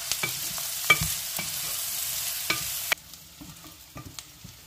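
Onions sautéing in a pan for a Jaffna-style plantain peel sambal, a steady close sizzle broken by scraping stirs of a spoon, quieter after the first few seconds, with no talk.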